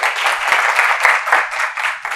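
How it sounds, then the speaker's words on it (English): A room of people, likely a class or training group, applauds after a presentation on infection control; brisk, fairly close clapping from a modest group, steady for a couple of seconds. "Can we clap for this group?"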